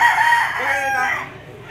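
A black gamecock rooster at a fighting-cock market in Lipa, Batangas gives a single loud, close crow that trails off after about a second.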